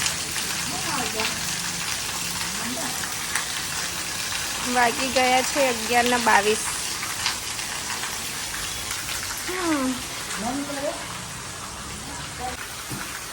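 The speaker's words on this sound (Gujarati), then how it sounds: "પણ વરસાદ બંધ નહીં થતો" Steady rain hisses throughout, with a person speaking intermittently over the downpour.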